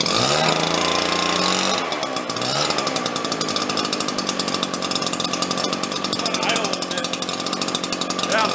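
Two-stroke leaf blower engine after rebuild, running loud and close with a steady buzzing drone that rises in pitch as it is throttled up and holds at high revs.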